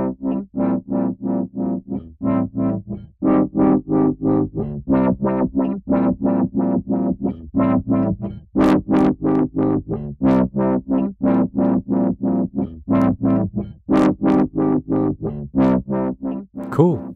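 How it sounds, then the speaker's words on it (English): A synth-like audio track in Logic Pro X, its filter cutoff swept by a MIDI modulation effect, plays a steady pulsing sequence of short distorted tonal notes with rhythmic brightness changes, alone and prominent. "now you can see the filter cutoff reacting to the modulation MIDI effect."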